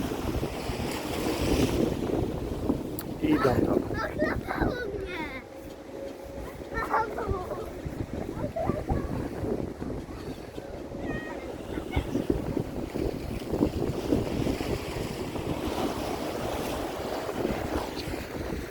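Sea waves wash and splash in a continuous roar, with strong wind buffeting the microphone and people talking faintly in the background.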